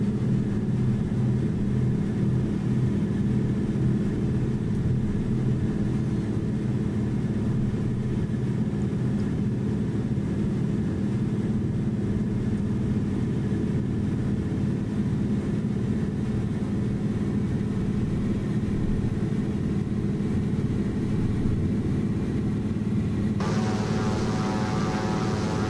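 A small bush plane's propeller engine drones steadily and loud with the throttle pushed up, a continuous close engine roar that holds for the full stretch, no talk over it.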